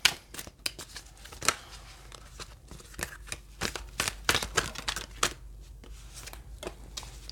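Tarot cards being shuffled and drawn up close, a quick series of sharp papery flicks and riffles with uneven rhythm, loud and clear with no voices.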